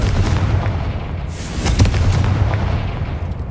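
Confringo fire spell blasts in Hogwarts Legacy, a loud rumbling explosion with a burst of crackle partway through, dense and sustained over a low booming bed.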